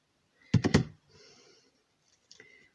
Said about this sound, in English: I'm just going to snip it off there